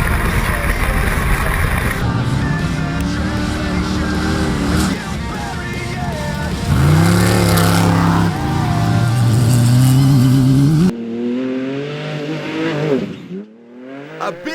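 Off-road race cars at the ARB Griffith 400 race, loud engines roaring and revving through gear changes close by, with rising and falling pitch, under a commentator's voice, before fading into a quieter passage at the end.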